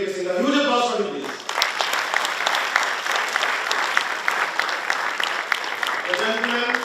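An audience breaks into sustained applause, dense steady clapping that swells after a brief spoken introduction and fades as a voice resumes at the end.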